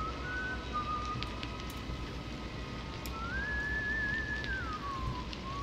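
A janitor whistles a wavering melody in White Day: A Labyrinth Named School (2017 remake), a thin tune over a steady hiss of rain-like ambience, gliding up and down and moderately close.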